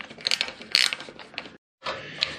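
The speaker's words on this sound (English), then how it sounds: "you're simply just going to screw in the screws" Screws are driven by hand into the threaded tube legs of a vintage metal bed frame, producing close, quiet clicking and ratcheting metallic turns, then a brief silence before more turning.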